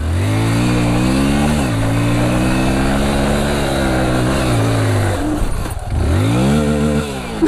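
Motorcycle with a stock exhaust revving hard while climbing a hill, loud and close, its engine note rising and dropping through repeated throttle surges and gear changes, with a short dip near the end before it pulls again.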